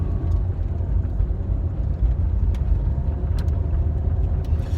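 A car moves slowly through traffic, with a constant low engine and road rumble from inside the cabin and a few faint clicks, no voices.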